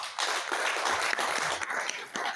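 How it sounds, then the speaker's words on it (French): Audience applause at a press conference presenting the 28th edition of the Défis du Chott, a steady broadband patter of many hands clapping throughout, fairly even and moderately loud, with a brief dip near the end. "On va l'applaudir."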